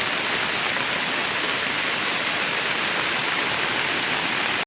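Heavy rain pours down in the Konkan region, a dense, steady roar of falling water that stays loud and unbroken from start to finish, with no voices.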